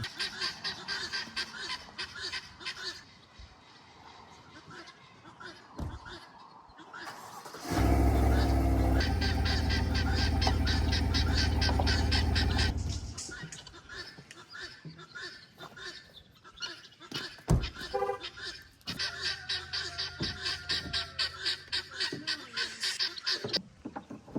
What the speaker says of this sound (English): Well, them guineas have been loud this morning.